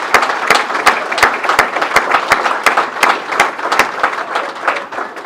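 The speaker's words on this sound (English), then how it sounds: "let's give everybody who's been in the support role for us as ball players a round of applause, please" Applause from a banquet audience at a baseball and softball Hall of Fame event, dense, steady clapping from many hands filling the room, with sharp individual claps standing out through the wash.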